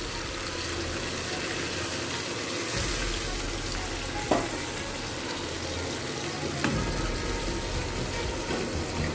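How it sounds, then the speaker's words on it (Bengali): A little water rinsed from a spice bowl is poured into a hot pan while cooking Bengali pomfret bhapa, giving a steady, close hiss and sizzle with a couple of brief clinks and no talking. "আর এই মশলার বাটিটা ধুয়ে সামান্য পরিমাণে জল দিয়ে দিচ্ছি।"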